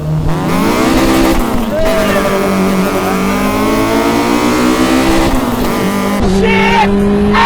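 K-swapped Honda EG Civic on a mountain road, engine loud and close, revving hard and climbing through the revs with a steady high-pitched howl, shifting pitch, and a brief voice near the end.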